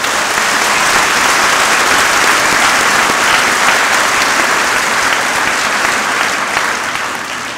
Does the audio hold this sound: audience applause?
yes